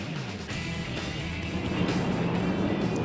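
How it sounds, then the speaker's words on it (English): NASCAR NEXTEL Cup stock cars rolling out onto pit lane at Martinsville, a steady broad engine rumble and road noise with no single car standing out, continuous and moderately distant throughout. "See the cars beginning to roll out, lining up on the pit lane"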